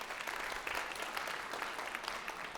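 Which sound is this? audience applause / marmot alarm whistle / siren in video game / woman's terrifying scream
audience applause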